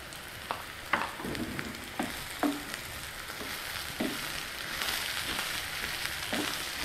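Ridge gourd pieces with onions fry steadily in a hot pan, a continuous close sizzle broken by several sharp clatters and scrapes of stirring.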